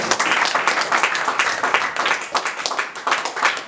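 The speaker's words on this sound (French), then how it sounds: "Est-ce que les jeunes peuvent acclamer pour la parole de Dieu?" Young people in a church congregation clap and cheer together, a dense, steady wash of applause that stays loud and even for the whole stretch.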